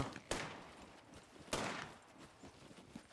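Gunfire in the survival video game SCUM, two sharp distant shots about a second apart over faint background noise, followed by softer scattered pops.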